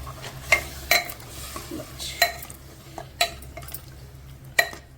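A spoon stirring a vegetable curry with pakoras and a little water in a pot, sharp scraping clinks at irregular intervals over a faint low hum, no voices.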